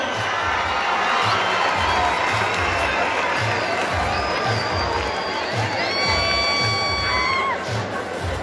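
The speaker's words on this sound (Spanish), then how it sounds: "Estamos en vivo, fuerte el aplauso." A packed crowd at the Plaza de Toros La Taurina in Huamantla, Tlaxcala, cheers and claps loudly during the fair's opening night, a dense continuous roar with whistles and shouts rising above it.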